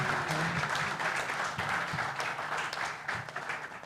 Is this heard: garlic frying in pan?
no